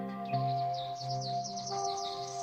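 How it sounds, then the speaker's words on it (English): Birds chirp and twitter at a distance in quick repeated calls over a steady low tonal hum. "The birds are coming back."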